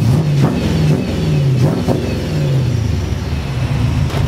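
A Chevrolet C10 truck with a new Borla 3-inch exhaust revs loudly and close by, its deep engine note rising and falling in several repeated throttle blips.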